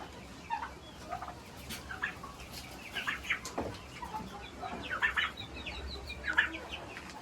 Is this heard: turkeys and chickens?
yes